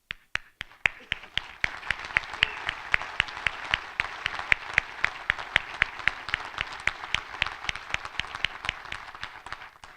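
An audience at a national cemetery dedication ceremony for veterans claps steadily for about ten seconds, a dense outdoor wash of many hands with a few sharper near claps standing out.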